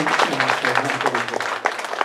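Audience applause for candidates at a YMCA secretary-general candidate debate, a short burst of scattered clapping in a hall, moderately loud, with a voice briefly over it.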